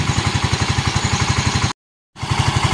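A Yamaha Mio i125 scooter that has been stalling on the road idles close by with a steady, even low pulse, loud and alone, cutting out briefly before the same rhythm resumes.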